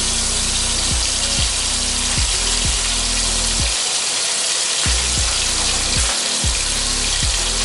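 A tablespoon of ginger garlic paste fries in a pan for mutton kabsa, giving a loud, steady sizzle that runs unbroken throughout, with a faint low pulsing underneath and no talking.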